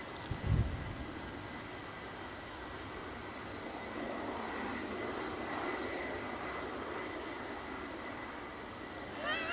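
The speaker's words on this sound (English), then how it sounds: "It's the short departing Ryanair." Ryanair passenger jet departing Edinburgh Airport, heard from a distance as a faint, steady rumbling engine roar that swells slightly, with a brief thump near the start.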